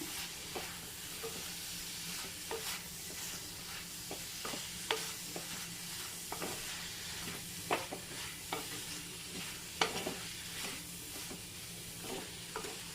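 Okra and onion curry stirred in a pan, a soft hissing fry punctuated by repeated light spoon scrapes and taps at an irregular pace, fairly quiet and close, no voices.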